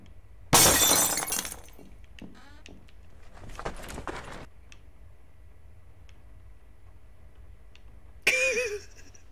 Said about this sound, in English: How they gonna tell me to stealth gameplay and then give me a rock to break the glass with?